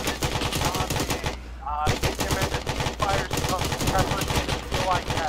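Sustained machine gun fire in a battle, dense rapid bursts nearly continuous with a brief pause, loud and close, with faint voices underneath.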